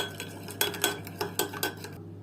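Oil and black pepper sauce is mixed in a bowl with a spoon, giving several close, rhythmic clinks and scrapes of metal against the bowl over a low hum.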